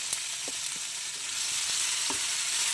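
Okra coated in masala fries in a pan with curry leaves, giving a steady, fairly close sizzle with a few soft taps of stirring.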